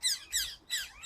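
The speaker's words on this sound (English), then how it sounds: "Oh, there's a lot of birds." Several loud bird squawks outdoors near a main road, coming in three quick bursts over about a second with short gaps between.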